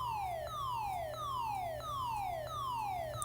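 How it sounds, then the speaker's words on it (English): Repeating electronic alarm siren going off, a steady sequence of falling wails that loop about every two-thirds of a second, loud and continuous with no talking. "And then the alarm starts going off."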